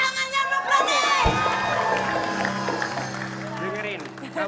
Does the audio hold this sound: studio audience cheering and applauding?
yes